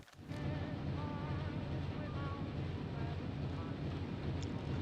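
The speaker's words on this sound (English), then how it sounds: "Pretty noisy back here in the engine room area." Submarine engine room in the UBOAT World War II simulation game, a loud continuous mechanical drone with a low throbbing rhythm and faint whining tones, steady and close.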